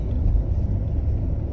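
Car engine during a driving lesson in Jakarta, a steady low rumble holding close and loud throughout as the driver keeps on the gas, with no voices over it.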